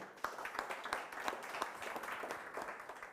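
An audience claps for a speaker at a breakfast talk, a dense, even patter of applause from a modest crowd heard from a little distance, steady throughout with no voices over it.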